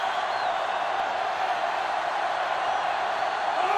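A sellout stadium crowd in the college football video game Leatherheads, 1934 Minnesota at 1938 Tennessee, roars as a steady, dense wash of noise with no break.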